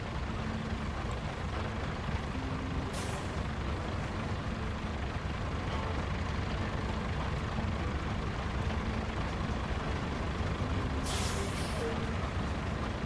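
A wide tarmac paving machine lays road in the RoadCraft video game, a steady heavy diesel drone with two sharp hissing bursts, like air brakes, rising over it.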